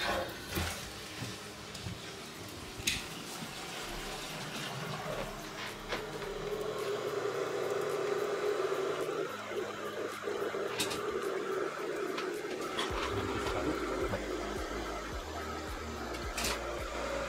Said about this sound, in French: Là, il y a la chasse qui est en train de se remplir. C'est pour ça qu'on entend l'eau circuler.